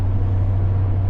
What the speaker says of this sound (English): Now you probably can hear my exhaust right now,